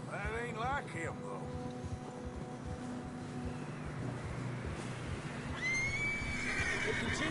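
A horse whinnies loudly up close in Red Dead Redemption 2, a rising and falling call, then another neigh follows later over steady outdoor game ambience and low rumble.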